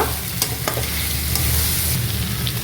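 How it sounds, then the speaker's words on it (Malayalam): Chopped carrots sizzle in a hot pan for chilli garlic noodles while being stirred, giving a continuous close frying hiss broken by a few brief spatula scrapes. "ക്യാരറ്റ് ഇട്ട് ഒന്ന് വഴറ്റുക, ഒന്ന് ഇളക്കുക."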